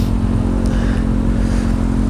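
A Kawasaki Ninja 636 with an Akrapovic exhaust idles and revs close by, giving a loud, steady, throbbing engine note with a deep rumble throughout.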